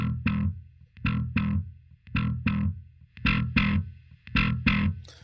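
Heavily distorted electric guitar chords from a Helix preset, struck in a steady repeating rhythm, loud and gritty, each strum ringing briefly before the next.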